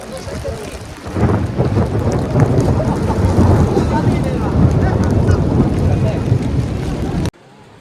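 Heavy monsoon rain pours down on the Amarnath pilgrimage trail via Pahalgam, a dense, roaring downpour that swells after a second and holds steady and loud before cutting off abruptly.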